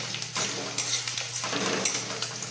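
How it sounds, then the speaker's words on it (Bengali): Garlic, black cumin, ginger and dried chili frying in hot oil for a lentil dish, giving a loud, steady, close sizzle with a few light clinks of a utensil. "রসুন কালো কালো জিরে রসুন আদা আর শুকনো লঙ্কা একটু ভাজতে হবে"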